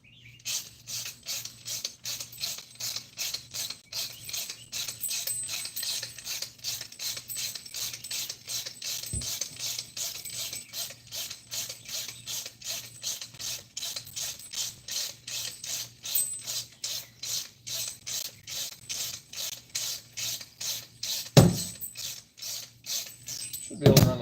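A socket wrench ratchets in a garage while a double-nutted bolt is worked, giving a long run of quick, even, close clicks with a sharper knock near the end.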